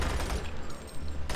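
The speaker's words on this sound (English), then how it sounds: "but we're going machine guns." Rapid machine gun fire in the shooter game Doom 3 BFG Edition, a loud, dense burst of overlapping shots that briefly eases and then resumes at the end, with no talk over it.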